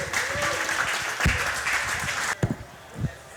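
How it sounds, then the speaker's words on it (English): Audience applause at a StarCraft 2 and League of Legends LAN event awards ceremony, a steady wash of clapping from a crowd lasting several seconds before tapering into a few scattered claps. "Everybody give a big round of applause to our StarCraft 2 Code A Top 3."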